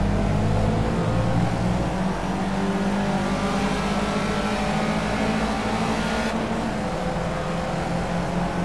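Race car engine in Project CARS on a wet track with the throttle lifted, a steady loud droning hum that holds for several seconds as the car coasts, with a slight drop in tone toward the end.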